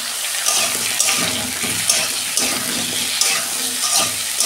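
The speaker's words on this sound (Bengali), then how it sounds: "একসঙ্গে সবজিগুলো সব ভেজে নেব।" Vegetables fry in a pan with a loud, continuous sizzle and crackle, broken by frequent stirring scrapes, close and without talk.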